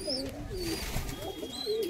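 Pigeons coo in soft, repeated low phrases, with a few brief higher chirps mixed in. The birds are fancy breeding pigeons, among them black Lakha pigeons, calling steadily and close by with no talk.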